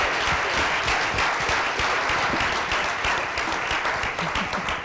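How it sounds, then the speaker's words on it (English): Loud, sustained audience applause for a group of pitchers, dense and even clapping from a nearby crowd that fills the whole stretch without pause. "let's give a big, loud round of applause to all of our pitchers"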